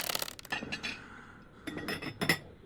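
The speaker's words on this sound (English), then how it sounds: "Those are the plates." Plates clinking in the horror game Peek: several light, brittle chinks of crockery, clustered near the start and again toward the end, fairly faint with no talk over them.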